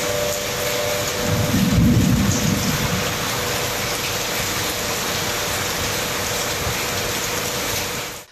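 Heavy rain pours steadily across the whole stretch with a rumble of thunder early on, rolling low and loud before fading under the continuous downpour, during a storm in northern Andhra Pradesh districts.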